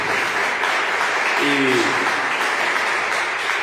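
Church congregation applauding during a Portuguese-language sermon, a steady dense wash of clapping that fills the whole stretch at even loudness, with a brief voice rising in the middle.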